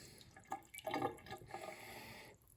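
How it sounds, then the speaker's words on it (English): A freshly stretched mozzarella ball is dipped into cold water, giving quiet splashing and dripping sounds with a few soft sloshes over a couple of seconds. "I'm going to dip that right into cold water"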